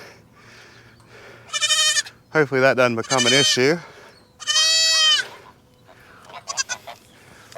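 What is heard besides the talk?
goats bleating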